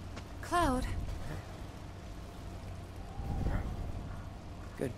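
A cat in the video game Final Fantasy VII Remake gives a short, rising meow early on, set against quiet game ambience, with a low voice murmuring later.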